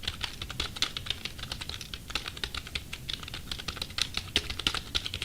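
Rapid, steady key clicks from a Dragon War gaming keyboard, a dense run of loud clattering keystrokes close to the microphone with no talking.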